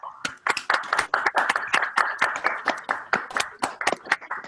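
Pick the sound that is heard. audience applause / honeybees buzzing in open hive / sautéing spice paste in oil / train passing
audience applause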